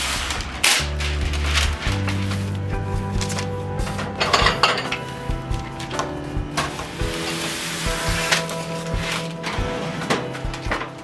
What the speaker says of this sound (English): it's gonna do some vegetable chopping now